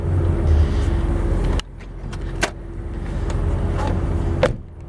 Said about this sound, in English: I'll go ahead and pop the hood